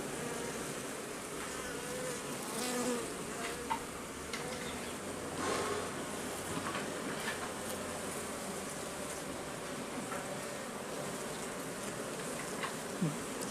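Buckfast honeybees buzz around an open hive during an inspection, a continuous close swarm hum with individual bees whizzing past the listener in brief louder passes.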